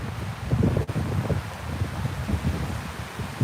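Steady wind gusting through trees in the woods at High Point State Park, a continuous low roar with rustling and buffeting against the microphone, no voices.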